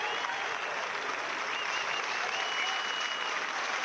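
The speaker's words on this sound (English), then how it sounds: "applause from the crowd" Steady crowd applause from the stands at a Neath RFC versus Munster rugby match as a substitution is made late in the game, a dense, continuous wash of clapping at moderate distance, with no talk.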